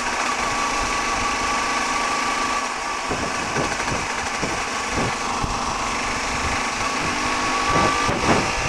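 A police motorcycle engine pulls steadily in third gear at about 4,000 RPM, a continuous close droning hum with wind rush and a few faint bumps and rattles.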